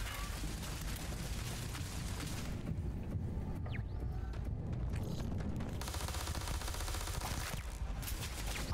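Turrets firing in the video game Starfield, a loud, continuous barrage of rapid automatic gunfire with booming impacts, briefly thinning mid-way before resuming at full intensity.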